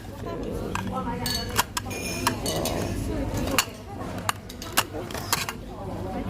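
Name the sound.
bowls being handled and clinking together at IKEA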